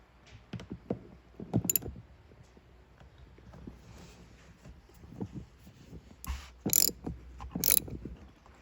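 Front seat bolts being worked loose in a 1980 AMC Eagle sedan, with quiet ratcheting clicks and a few sharp metallic clanks from a tool, close and intermittent, with no talk.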